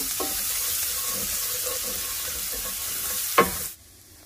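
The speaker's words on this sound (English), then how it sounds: "I'm going to give that a head start and saute." Sautéing in a hot cast iron or stainless steel pan, a steady even sizzle with a light clatter near the end before it cuts off abruptly.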